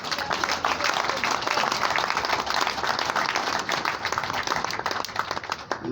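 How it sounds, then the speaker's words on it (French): Guests at a civil wedding ceremony applaud the newlyweds, brisk continuous clapping from a sizeable crowd that stays even and strong before thinning slightly near the end. "On peut bien applaudir les mariés pour cela."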